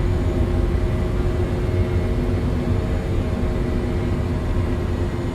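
An Azul E195 airliner climbs after takeoff in Microsoft Flight Simulator, producing a steady, loud, continuous engine roar with a constant tonal hum and no talk.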